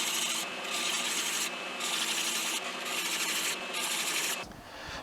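Wooden chair slats being hand-sanded with 220 grit sandpaper, a close continuous rasping in steady back-and-forth strokes that stops abruptly near the end, no talking.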